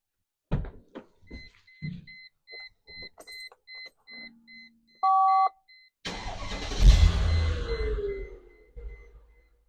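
Mercedes W210 E55 AMG with very high mileage starting on a ramp: clicks and door sounds, repeated chime beeps, then the starter catches and the V8 fires into a loud close rumble that settles into idle.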